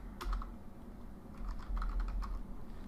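Keys clatter on a computer keyboard as a command is typed, with quiet, fast clicks coming in short bursts and brief pauses between them.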